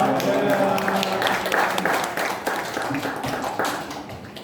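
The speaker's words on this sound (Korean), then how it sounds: "나오실 때 할렐루야로 크게 환호하겠습니다" A church congregation at a relocation service in Siheung bursts into cheering and loud, dense applause that swells at once, then gradually thins, with voices mixed in over the clapping.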